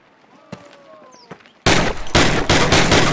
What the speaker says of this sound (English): First on the hip, then aim down the gun sight. Firing both ways.